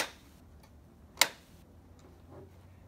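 A single sharp mechanical click from a PS4 Slim disc drive mechanism being rotated by hand to free a stuck disc stands out against a quiet, faint background hum, with a softer tick shortly before it.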